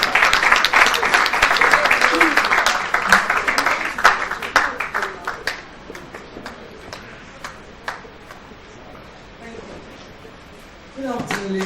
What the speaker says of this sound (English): Please, Mr. Folashade Adefisayo, please make a round of applause as you walk on the stage.